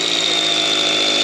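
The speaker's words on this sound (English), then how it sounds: "Zach is working on drilling one of these holes right now" Loud, steady whine of a power drill boring a hole into rock for blasting, a constant high-pitched grinding drone with no pauses.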